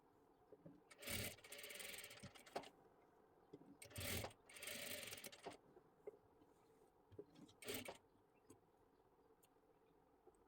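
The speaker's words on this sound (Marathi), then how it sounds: "आता सर्वात आधी इथे आपल्याला काय करायचं आहे एकदम अशी कडेकडेला एक शिलाई देऊन घ्यायची आहे।" A sewing machine stitching along the edge of a sleeve in several short bursts of rapid whirring, separated by quiet pauses and small clicks.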